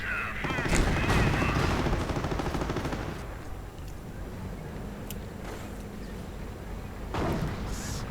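Gunfire and artillery crackle in a WWII strategy game battle involving Panther and Panzer IV tanks, a loud burst of shots and blasts at first easing into a steady rumble of distant fire.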